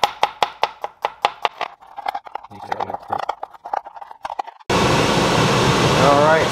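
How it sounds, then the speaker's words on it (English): About two dozen garlic cloves being roughly chopped with a knife on a board, a run of sharp, evenly spaced chops that grows quicker and more irregular, then gives way to a loud steady whooshing hiss. "I have about 24 cloves of garlic here. We're just gonna roughly chop them up."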